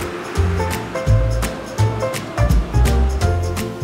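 Rushing water of the clear Badeng mountain river at the foot of Mount Raung in Sumberbulu village, Java, a steady full flow with rhythmic surges and splashes, close and loud with no voices.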